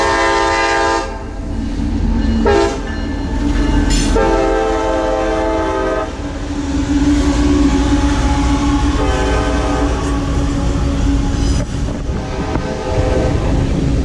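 A train rumbles past close by, its loud horn sounding in several long blasts over the steady roar and rattle of the cars.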